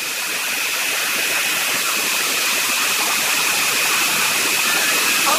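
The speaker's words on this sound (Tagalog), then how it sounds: "nakakita natin ang lagas-lagas ng tubig" A loud, continuous rush of falling water fills the whole clip, broad and unbroken, as water pours over a dam at Villa Escudero.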